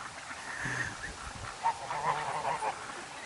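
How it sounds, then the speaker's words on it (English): Geese in a swampy low area of a farm give a few scattered honks, moderately close, over a soft outdoor background. "The geese are over here."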